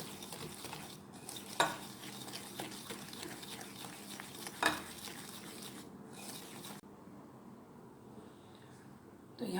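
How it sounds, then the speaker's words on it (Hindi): Cookie dough being stirred and mixed in a bowl until pale, producing a continuous soft scraping and squishing with a couple of sharper utensil knocks against the bowl, no voice. "इसको अच्छा सा मिक्स करेंगे उस वक्त तक जब तक कि ये वाइट ना हो जाए।"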